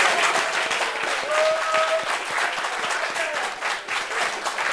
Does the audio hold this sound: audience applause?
yes